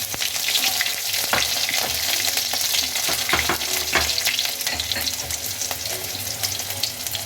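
Green chilies sizzle in hot oil alongside curry leaves while poha is being made, a steady close crackle with a few sharper pops and stirring scrapes throughout.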